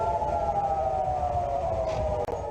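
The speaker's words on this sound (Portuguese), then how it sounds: "As sirenes soaram diversas vezes neste sábado de manhã em Jerusalém" Air raid sirens wail across Jerusalem on a Saturday morning during an Iranian missile attack on Israel, a steady, sustained tone that holds throughout at moderate distance with no talk.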